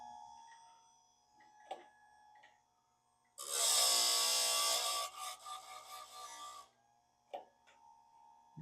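An electric chainsaw sharpener grinds against a chainsaw chain for about three seconds, a loud, steady, bright whir that cuts off abruptly, framed by faint clicks and soft handling taps before and after.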